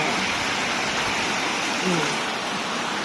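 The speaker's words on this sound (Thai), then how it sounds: "นี่ฝนกำลังตกเลยพี่น้องเด้อ" Afternoon rain pours steadily, a dense, even hiss of falling water that stays constant throughout, with a brief faint voice partly buried underneath.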